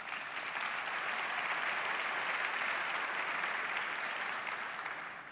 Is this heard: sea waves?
no